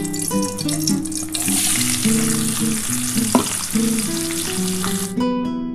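Chopped onion and bay leaves sizzle steadily in hot oil for a Bengali mutton kosha, a dense continuous fry with a brief louder crackle midway, close and alone until it cuts off abruptly near the end.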